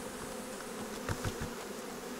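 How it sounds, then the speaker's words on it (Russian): Dense, continuous buzzing of many honey bees as they are shaken off hive frames during a move, with a couple of brief soft knocks in the middle. "Вот при стряхивании пчелы с рамок."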